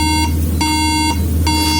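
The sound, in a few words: MacBook Air beeping three times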